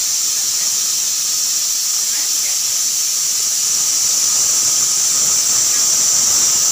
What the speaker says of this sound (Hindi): कुकर में 9 लगे और 10वां सीटी है